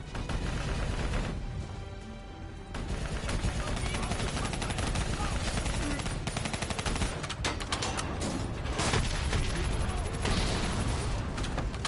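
Heavy gunfire in a Black Ops 3 campaign battle, with weapons aimed at a VTOL aircraft, rattles continuously at close range amid explosions and battlefield noise, while voices speak over it.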